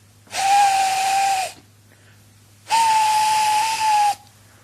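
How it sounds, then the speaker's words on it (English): Two long steam locomotive whistle blasts, each steady and shrill with a hissing rush, separated by a short pause, the second slightly higher and louder as the engine draws closer. "far away, but getting louder and louder, was the sound of an engine's whistle"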